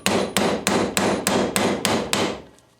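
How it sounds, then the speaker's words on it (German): Eight loud, evenly spaced hammer blows ring out close by while a steering line is knocked loose on an Audi 100 C4, each strike sharp and metallic, the last one fading into a brief quiet. "Beherzt schlagen und dann haben wir sie schon."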